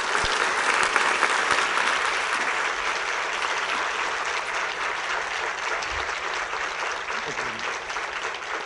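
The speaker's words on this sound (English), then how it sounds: "Another round of applause, Alexandra Cousteau." An audience applauds ocean speaker Alexandra Cousteau at a green-solutions talk: continuous, full-room clapping at an even level throughout, with a faint voice briefly audible underneath.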